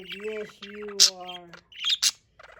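Pet budgie named Rose gives short bright chirps between stretches of a woman's close, sing-song talking, the bird calls brief and high, coming in a few quick bursts.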